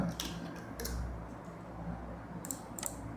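A computer keyboard clicks in a few scattered bursts of keystrokes, fairly close and quiet, with steady background hiss and no talking.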